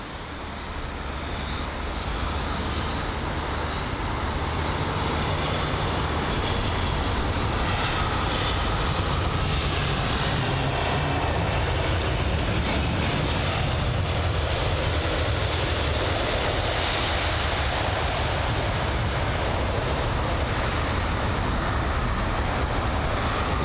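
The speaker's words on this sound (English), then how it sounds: "it's the Eurowings A319 from Cologne on its 1 hour and 8 minute long journey" A Eurowings Airbus A319 from Cologne at London Heathrow gives a steady, fairly faint broadband engine rumble that runs unbroken throughout, heard from a distance with no voices.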